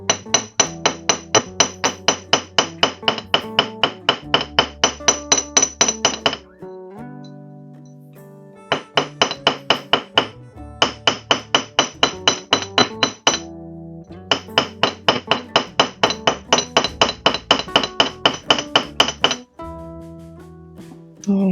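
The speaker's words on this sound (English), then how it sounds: "you can just gently go over them with a hammer and you will start to almost iron out your component" Rapid, rhythmic metallic taps of a hammer flattening a wire-wrapped jewelry pendant, ringing out in close, even bursts with brief pauses between runs.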